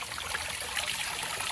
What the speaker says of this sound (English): I'm gonna show you the first fountain right now that we were about to do.